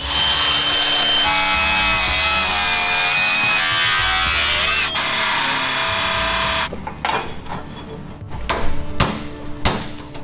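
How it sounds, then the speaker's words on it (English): An angle grinder cuts through the steel bed of an old Ford tow truck with a loud, sustained high whine for several seconds, then stops, followed by clanks and knocks of metal being handled nearby. "I'm gonna cut the top line and the bottom line with the grinder"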